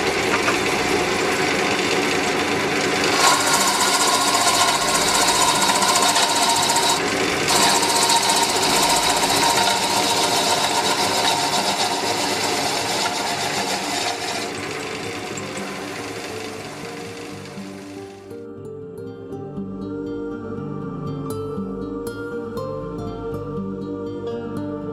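A wood lathe spins a turning while a hard scraper works the finish, making a loud, steady grinding and buzzing drone that fades partway through, then leaves a quieter hum with a rhythmic mechanical rumble.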